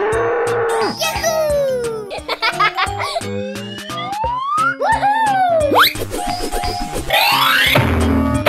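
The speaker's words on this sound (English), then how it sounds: "Cow." A cartoon cow moos in a video game among sliding, swooping game tones and bright chimes, loud and busy throughout with no pause.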